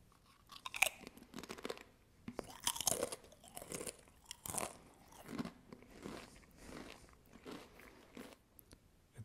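Crisp, close crunching and chewing of a sweet chutney-flavoured Pringles Fusion chip, with repeated bites and steady mastication and no talking.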